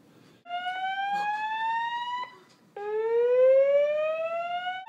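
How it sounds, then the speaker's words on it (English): An indoor fire alarm blares two long, loud electronic tones that rise in pitch, with a short break between them and no talking. "It's so hot it set up a fire alarm"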